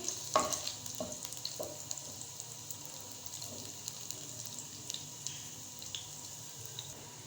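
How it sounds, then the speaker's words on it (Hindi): Chopped garlic sizzles in hot oil in a pan, turning light brown while being stirred, with a steady close frying hiss and a few scraping clinks of the spoon. "जैसा कि लहसुन ब्राउन होना शुरू हो गया है"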